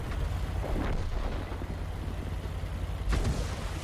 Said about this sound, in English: Well, the Artie is taking shots at me.